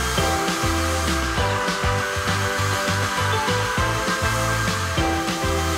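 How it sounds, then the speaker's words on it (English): A blow dryer runs continuously to heat wax rubbed onto canvas tennis shoes, a loud, steady whirring drone with shifting tonal hum, alone without talking. "Once you've covered the whole shoe, take a blow dryer to it."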